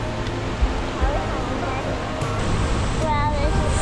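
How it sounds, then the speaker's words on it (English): Waterfall at Rock Island State Park, a steady broadband roar of rushing water with a voice speaking over it. "this is a beautiful waterfall"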